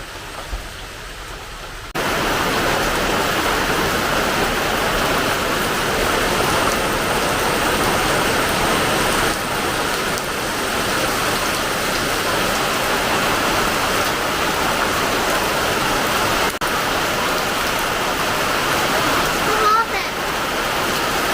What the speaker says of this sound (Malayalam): വീണ്ടും മഴ തുടങ്ങിയിരിക്കുകയാണ്.